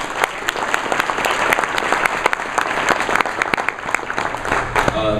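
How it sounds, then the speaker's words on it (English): Audience applause at a quarterback club awards luncheon in New Orleans, loud, steady clapping with distinct individual claps standing out sharply throughout, ending with a brief voice. "I'd like to give them one more round of applause"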